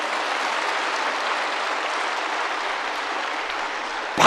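A church congregation at a Sunday service breaks into loud, sustained applause, a dense even wash of many hands clapping that holds steady for several seconds, with no voices over it.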